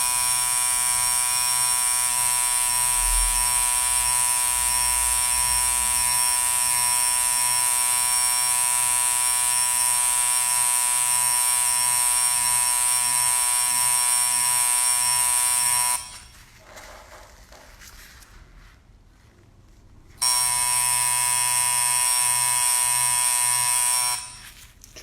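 A tattoo machine fitted with a liner needle buzzes loud and steady at close range, cutting out for a few seconds before resuming the same even, harmonic drone.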